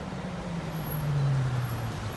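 Traffic on a small highway and commercial road heard while walking alongside it, a steady low roar of passing vehicles with an engine drone swelling and fading.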